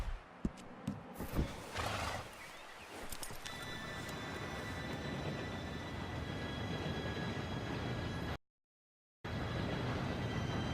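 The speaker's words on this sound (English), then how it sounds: "Train should be here any minute now." An approaching train in the Red Dead Redemption 2 video game, a steady loud rolling rumble with a high ringing tone, following a few sharp knocks and horse hoof sounds at the start.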